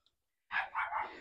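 A female dog barks in a home garage during work on a 1966 VW Bug, a short close burst of two or three quick barks after a moment of silence.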